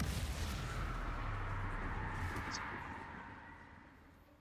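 Blasting-spell explosions in a Harry Potter video game, a heavy roaring boom that swells at once and then rumbles and fades over a few seconds.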